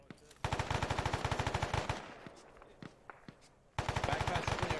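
Rapid automatic gunfire in Arma 3 comes in two sustained bursts at the start and end, with scattered single shots and faint distant reports between them.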